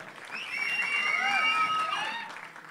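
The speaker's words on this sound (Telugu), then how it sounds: "the entire team needs a big round of applause" Audience at The Warrior film press meet breaks into sustained applause and cheering, with shrill whistles rising over a dense crowd roar for a few seconds before easing off.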